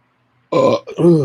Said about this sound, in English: finally that burp came out.